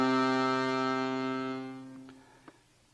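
An accordion holds one note with its low and middle reeds sounding together an octave apart, giving a rich reedy tone that slowly fades over a couple of seconds.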